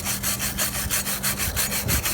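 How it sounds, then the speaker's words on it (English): Harsh, rhythmic scraping strokes of grinding on a metal trailer tongue mounting bracket rated for one ton, close and steady over about two seconds, with no voices. "We're going to grind that up a little bit."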